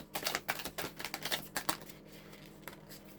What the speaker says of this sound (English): this deck is so hard to shuffle, but we'll get there.